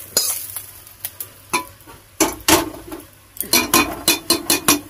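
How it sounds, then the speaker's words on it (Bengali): Ash gourd and prawns being stirred in a hot pan give repeated scraping strokes of a spatula against metal, sharp and close, falling in an uneven rhythm over a faint background sizzle. "এইবারে ভালো করে একসঙ্গে মিশিয়ে নেব, আরো কিছুক্ষণ ভেজে নেব।"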